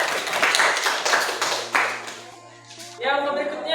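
Students in an art class at a teacher-training university clap together in a dense burst of applause that fades after about two seconds, after which a voice speaks.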